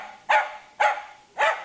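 A dog barks three times in a steady rhythm, each bark loud, close and sharp, with short quiet gaps between them and no talking.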